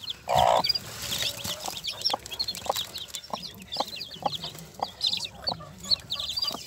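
A hen clucks near her newly hatched chicks, with a loud squawk at the start, then repeated soft clucks and a busy chorus of high chick peeps throughout.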